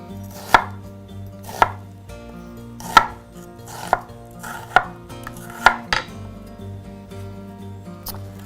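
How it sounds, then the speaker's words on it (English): A knife chops through an onion on a cutting board in a cooking class, with six or seven sharp, separate strikes at an uneven pace, close and clear, followed by softer scraping. "we'll want to come across the onion and chop very thinly"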